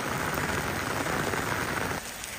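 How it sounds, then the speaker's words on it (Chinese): Rain falls steadily and densely on surfaces close by, a continuous hiss of drops that eases slightly toward the end. "这雨越下越大了"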